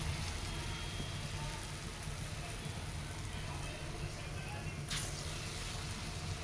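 Hot white oil sizzles steadily in a pan as food fries in a Bengali home kitchen, a dense continuous crackling hiss at even loudness throughout.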